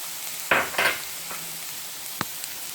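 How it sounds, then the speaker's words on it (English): Vegetables for Indian-style fried rice, cabbage, capsicum and green beans with garlic, get stirred in a pan: two close scraping, sizzling bursts of stirring over a quiet background hiss, then a soft tap of utensil on pan. "I'm going to stir this"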